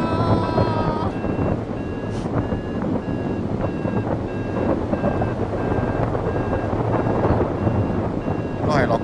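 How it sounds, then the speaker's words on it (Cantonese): Strong wind roars and buffets the microphone in a continuous rumble, with repeated electronic beeps cutting through the gusts. "大風啲啊"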